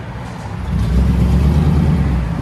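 A 2000 GMC Savana van's 5.7L V8 with straight-pipe exhaust revs up close by, a deep rumbling idle climbing into a loud, sustained roar that holds steady to the end.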